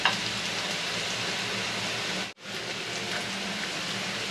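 Sliced onion and garlic sizzling in hot oil as they brown, a loud, steady, close hiss that cuts out briefly midway and then resumes.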